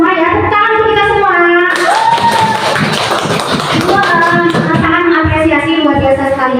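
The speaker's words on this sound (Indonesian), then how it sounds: "Tepuk tangan untuk kita semua." A classroom of schoolchildren claps together in a dense, steady burst of applause, loud and close, with voices and a teacher calling out over it.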